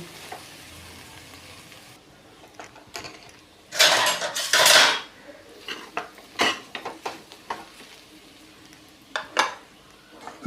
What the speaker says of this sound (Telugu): ఇవన్నీ ఒక పది నిమిషాలు ఇలా దగ్గర వేగనివ్వాలండి ఒకసారి కలుపుకుందాం